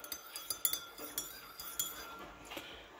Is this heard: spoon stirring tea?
yes